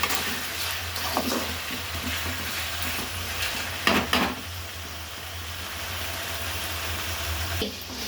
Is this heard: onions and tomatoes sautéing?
yes